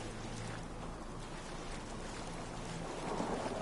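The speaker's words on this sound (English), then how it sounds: "Middle of the night, big rainstorm." A nighttime rainstorm with wind in Fallout 4 at Far Harbor: a steady, fairly quiet wash of rain hiss and wind that swells slightly near the end, with no speech.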